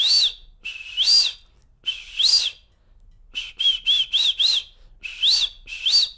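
A person whistles an imitation of a shikra's call: a run of sharp, high, rising-falling notes, first in spaced pairs, then a quick string of five short whistles, then two more, loud and close with no talk.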